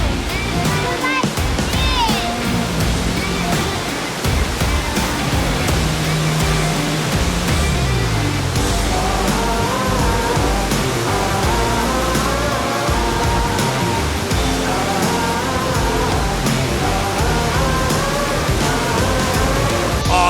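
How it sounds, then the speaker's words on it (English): A steady, roaring rush of a massive waterfall in Doi Inthanon National Park, Thailand, broad and continuous, with some faint voices and movement noise mixed in. "Awesome, massive waterfall."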